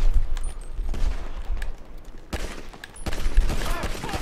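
Gunfire in the video game Grand Theft Auto 5: a sustained fusillade of shots with sharp bursts standing out near the start and again louder toward the end, with a voice briefly heard amid the shooting.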